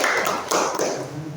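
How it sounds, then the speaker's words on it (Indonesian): A short burst of clapping from a classroom group, a quick patter of hand claps that fades within about a second. "Kita beri tepuk tangan untuk kelompok dua."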